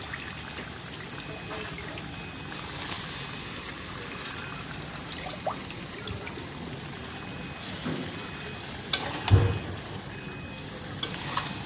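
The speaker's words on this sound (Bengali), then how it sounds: "এই তো নাড়াচাড়া দিচ্ছি, সবগুলো মশলা দেওয়া শেষ, মাংসগুলো কষাইতেছি।" Chicken pieces frying with spices while being stirred, a low continuous sizzle with occasional scrapes and a sharper knock near the end, fairly quiet and free of speech.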